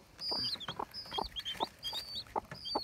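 Ataks hens and small chicks cluck and peep close by in quick repeated calls, with soft high chirps and shuffling over wood shavings.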